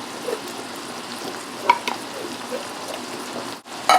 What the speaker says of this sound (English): mix these all together until nice and warm